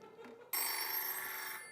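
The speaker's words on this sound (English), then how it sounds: "Did somebody leave this really old-timey phone here?" An old-fashioned telephone bell bursts into a continuous metallic ring after a quiet start, clear and moderately close, ringing alone without talk.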